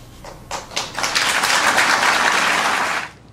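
A crowd applauds during a political speech by President Obama, starting with scattered claps that swell into sustained, dense clapping for a few seconds before cutting off.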